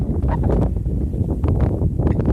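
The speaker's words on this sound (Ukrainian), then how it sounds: "буде, мабуть, не дуже добре чути, бо у нас, як завжди, вітер" Gusty wind rumbles and buffets the microphone in uneven bursts, loud and close, with no voices.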